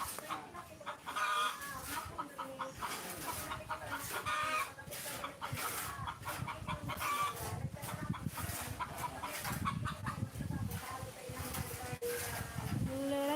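Chickens cluck repeatedly in a farmyard setting, a busy, moderately distant mix of clucks and fowl calls throughout, with some other ambient noise.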